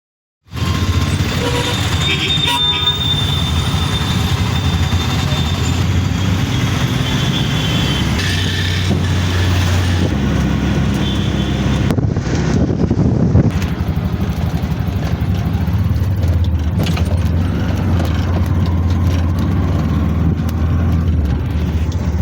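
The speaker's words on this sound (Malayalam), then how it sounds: "പിന്നെ വണ്ടിയിലിരിക്കുമ്പോൾ ഇത്തിരി നല്ല കാറ്റ് കിട്ടും കേട്ടോ" Riding in a moving vehicle, a loud steady rumble of engine and road noise with wind buffeting, continuous for the whole stretch with occasional rattles and shifts in tone.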